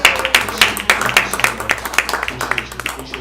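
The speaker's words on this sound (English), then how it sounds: "everybody give her a round of applause for what she does" A modest audience at a live inventors network gathering claps steadily, a sparse, close round of individual hand claps with a few louder slaps, continuing for several seconds.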